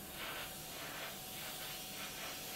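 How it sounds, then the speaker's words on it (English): An airbrush spraying paint at low air pressure, a soft, faint continuous hiss with gentle pulsing swells as the spray is worked on and off, quiet and close with no talking. "as you can hear, you can hardly hear the spray"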